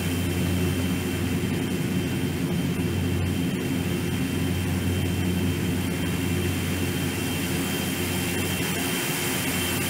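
Twin turboprop engines of a Fokker 50 in the X-Plane 11 flight simulator drone steadily at high, even volume for the whole stretch, a constant tonal roar with no voices over it.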